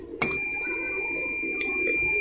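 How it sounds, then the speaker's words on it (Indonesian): A digital multimeter gives a continuous high-pitched continuity beep while testing a good fuse, a steady tone that starts abruptly and holds for about two seconds with no talk. "jika berbunyi itu berarti fuse bagus, dan multimeter ini juga akurat dalam menentukan jalur"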